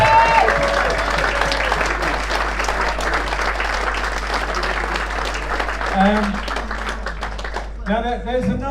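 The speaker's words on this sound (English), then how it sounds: "a round of applause for David Miller" A dinner audience applauds a speaker, sustained clapping filling most of the stretch before fading, with voices talking over and after it.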